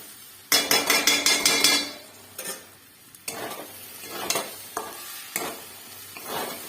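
A spoon scrapes and knocks around a pan of semolina upma finished with ghee, first in a quick burst of rapid strokes, then in scattered single scrapes and taps with pauses between.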